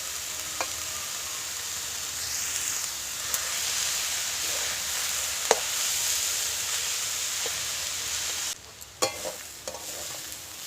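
Chopped banana stem and potato fry in a pan with a steady, close sizzle and hiss, broken by a few sharp clicks and scrapes of a utensil stirring against the pan.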